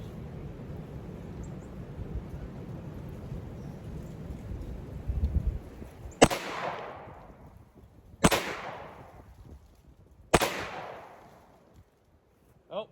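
A PSA Dagger pistol fires three sharp, loud shots spaced about two seconds apart outdoors, each with a decaying echo, after a stretch of low background noise.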